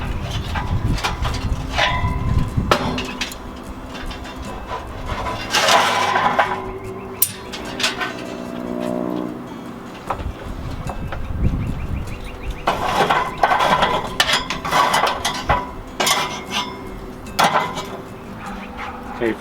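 A metal top grate is set into a Char-Griller XD Grand Champ charcoal grill, producing a series of sharp clanks, scrapes and rattles spread across the clip, loud and close, with bursts of clatter between quieter stretches.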